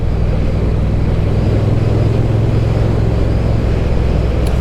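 A BSA motorcycle engine runs steadily, a loud, dense low rumble with constant wind-like roar and no pauses, as if heard while riding.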